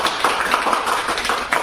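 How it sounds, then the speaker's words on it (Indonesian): Dense applause from a crowd at an Islamic education lecture, a steady wash of many hands clapping at once, fairly loud and continuous with no voices over it. "Terima kasih, tepuk tangan dulu."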